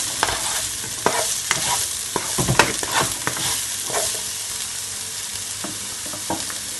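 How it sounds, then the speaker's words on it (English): Stew chicken with peppers and fresh thyme sizzles steadily in a pan while a utensil stirs it, with scraping clacks and brief knocks scattered through the frying, close up, with no talk. "Just want to give it a stir."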